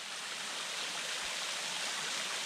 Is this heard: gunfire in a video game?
no